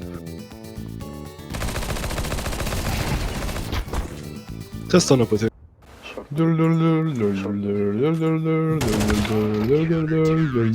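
Rapid automatic gunfire crackles in a Counter-Strike match, dense bursts of shots with a short pause partway, while players talk over it.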